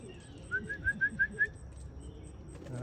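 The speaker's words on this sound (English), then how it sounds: "I shouldn't have whistled." A person whistles to racing and roller pigeons, a quick run of about six short, rising chirpy notes, fairly clear over a quiet outdoor background.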